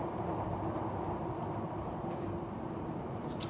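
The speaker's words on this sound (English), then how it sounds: "just wait for this train to go by" A train passes by outdoors, a steady loud low rumble and roar with no speech over it, holding constant throughout with a faint high squeal near the end.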